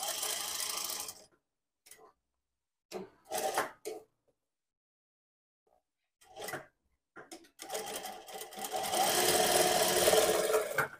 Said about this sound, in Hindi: तो ये देखिए मैंने चार पांच यहाँ पे सिलाई लगा ली है